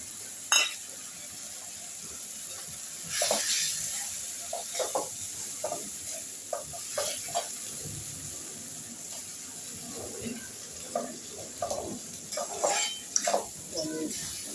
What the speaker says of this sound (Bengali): তেলের সাথে মশলাটার সাথে একদম একটু ভাজা ভাজা করে দিলাম